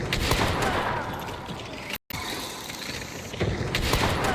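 Gunfire in a competitive shooter game, with repeated loud shots over a steady wash of game ambience and a brief dropout midway.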